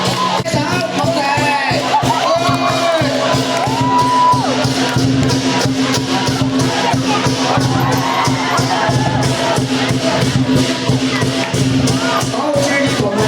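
A packed audience at a traditional lion and qilin dance show in Fung Yuen roars with sustained cheering, shouting and clapping, loud and unbroken throughout, with children's voices audible in the mix.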